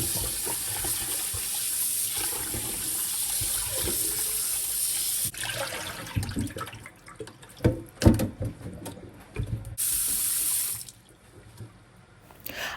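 Cut yam pieces are washed by hand in water, with steady splashing and running-water rush at first, then intermittent sloshes, clunks and trickles as the pieces are stirred and rinsed, close and fairly loud with no talking.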